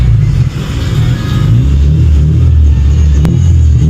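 Two Honda Civics roaring at a drag race launch, loud revving engines surging and rumbling close by, with pitch shifting as they accelerate and a brief sharp crack near the end.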